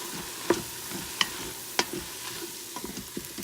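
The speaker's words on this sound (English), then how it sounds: "we're going to add 1 tablespoon of flour and mix that in" Flour being mixed into browned ground beef in an Instant Pot, heard as a few sharp utensil scrapes and knocks against the pot over a soft sizzle, with no talking.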